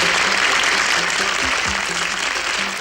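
A concert audience applauds a band on stage, a loud, dense and continuous roar of clapping that holds steady throughout, with faint tonal sounds underneath.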